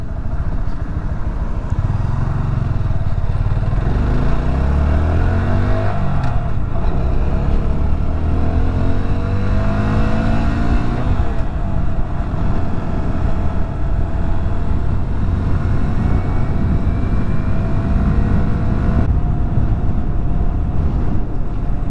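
A Honda Grom motorcycle fitted with an air box snorkel mod revs loudly and close, its engine note rising and falling through gear changes amid strong wind rush, with no talking.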